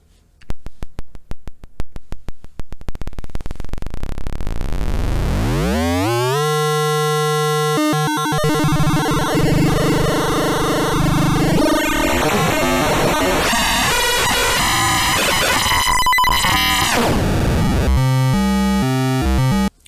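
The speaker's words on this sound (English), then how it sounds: "as you turn this up, it becomes a pretty wild noise source" A Benjolin V2 modular synthesizer pushes its shift register into a wild noise source. It starts as a steady buzzing tone, then sweeps upward into a dense, loud, chaotic wash of shifting, stuttering electronic noise that continues throughout.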